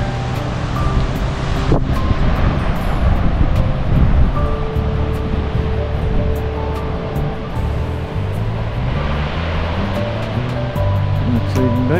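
Ocean waves break at Eden Beach, in Batemans Bay, as a continuous loud roaring wash of surf with wind buffeting the microphone throughout.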